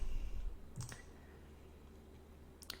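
A computer mouse clicks twice, once softly near the start and again near the end, each a faint, brief tick over a quiet room hum.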